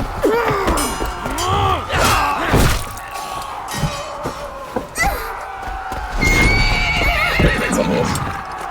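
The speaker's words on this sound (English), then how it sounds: "It's a horse." Horse in the Viking-era game Assassin's Creed Valhalla whinnying loudly and repeatedly amid thudding hoofbeats and heavy impacts, close and forceful, with brief voices mixed in.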